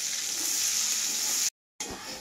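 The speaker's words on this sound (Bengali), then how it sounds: "এবার আমি পেঁয়াজটাকে ভাজি, লাল লাল করে পেঁয়াজটা।" Onions frying in a pan give a steady, bright sizzle that cuts out abruptly for a moment and then resumes, close and fairly loud with no talking.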